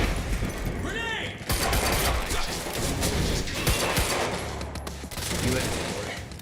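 Heavy gunfire and crashing blasts from a Quantum Break shootout, dense and continuous at close range, with a grenade burst early on amid the din and voices shouting under the fire.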